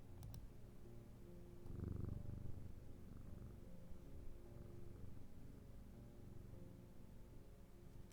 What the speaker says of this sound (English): You can hear cat purrs